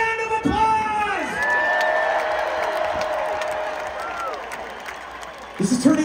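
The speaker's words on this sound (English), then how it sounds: "give yourselves a round of applause!" Large open-air rock concert crowd at Jones Beach Theater on Long Island cheering, whooping and applauding as one sustained roar, with shrill shouts rising above it.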